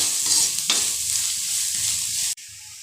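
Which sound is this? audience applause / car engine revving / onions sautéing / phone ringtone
onions sautéing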